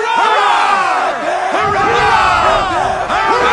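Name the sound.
crew cheering hurrah, from video game Assassin's Creed 3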